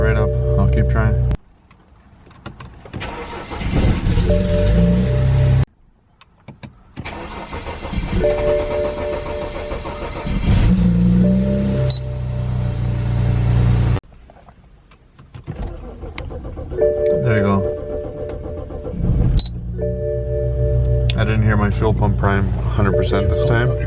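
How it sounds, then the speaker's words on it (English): A BMW E90 with a hard-start problem cranking repeatedly before catching, several long starter bursts separated by short silences, then the engine settling to idle; a person speaks at times. "I'm going to start my car"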